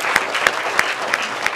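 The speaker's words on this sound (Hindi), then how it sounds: "एक ताली इन लोगों के नाम पर" Audience clapping in unison at a cleanliness-themed gathering, five sharp synchronized claps in an even rhythm over a steady crowd bed, close and loud.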